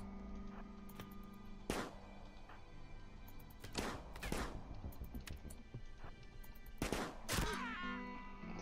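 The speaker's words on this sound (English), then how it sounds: "This guy has a high rate of fire" Rapid enemy gunfire in a first-person shooter, several loud sharp bursts spaced a few seconds apart over a steady background hum, with no talking.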